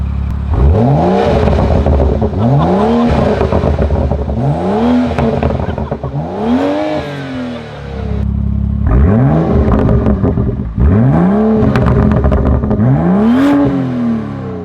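BMW M235i with its muffler deleted, revved hard again and again, each sharp climb and drop repeating in a steady rhythm, loud and close, about seven blips in total.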